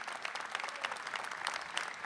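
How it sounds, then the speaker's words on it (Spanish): Studio audience applauding in a large television studio after a lecture by a professor, a dense, even patter of many clapping hands with sharper individual claps popping out, sustained and moderately loud. "el aplauso para Aldo Ferrer"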